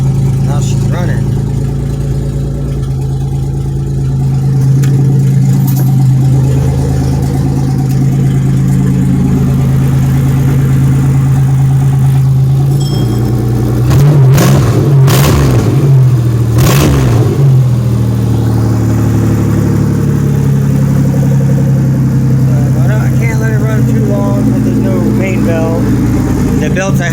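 Engine of a rusty 1997 Pontiac Grand Prix GTP two-door coupe runs close by at a steady idle, rising through a few quick revs midway before settling again, while someone talks over it.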